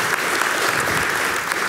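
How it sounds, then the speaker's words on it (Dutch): A large audience at a commemorative event gives a warm round of applause, a thick, continuous roar of many hands clapping at once, loud and unbroken. "warm applaus"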